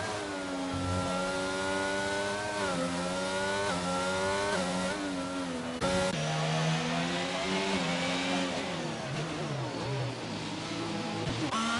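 A Williams Formula racing car in a video game screams around Monaco in the rain, its high engine note rising and falling through repeated upshifts and downshifts, loud and continuous throughout.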